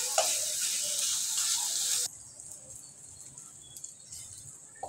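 Meat frying in a pan, giving a steady loud sizzle that drops suddenly to a faint hiss and then to quiet crackles.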